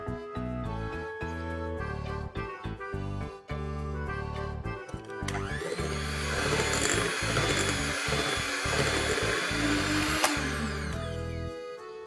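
Electric mixer beating castor sugar with other ingredients for eggless peanut butter cookies, a steady loud whirring drone that rises in intensity midway, with bowl scraping and clatter over background music.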